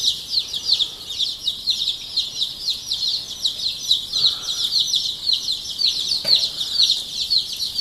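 A brooder full of young laying-breed chicks from six breeds gives a constant, close chorus of high peeping and cheeping, steady and busy throughout.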